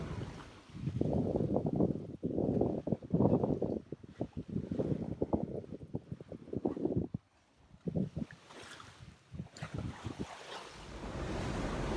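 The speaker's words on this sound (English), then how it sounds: "The wind picked up." Strong wind roars around a sailboat at sea in 30-knot conditions. It comes as loud, continuous gusts and buffeting against the microphone, with waves washing behind it.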